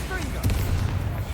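Explosive Bombarda spell cast in Hogwarts Legacy, a booming burst with a low rumbling tail over steady game noise, landing amid combat.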